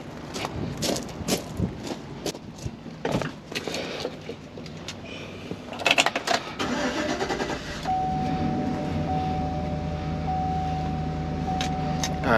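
A 2015 Chevy Express van with a bank 2 injector fault cranks and catches, settling into a steady, smooth idle that stays near and constant, with a faint whine running through the engine hum.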